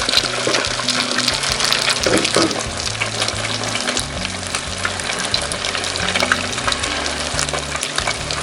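Egg-battered crappie (speckled perch) fillets frying in a pan, a loud, dense, continuous sizzle and crackle close by, with a few stirring or handling clatters and no talk over it.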